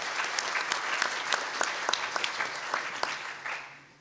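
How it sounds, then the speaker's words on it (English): A crowd gives a big round of applause for out-of-area guests at a gathering, the dense clapping carrying a few sharper individual claps before tapering off at the close. "let's give all our friends from outside of our area a big round of applause."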